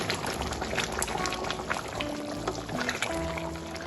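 Chicken kosha curry bubbling and simmering in a pan, dense thick boiling and gentle stirring sounds up close, with a faint tone humming underneath.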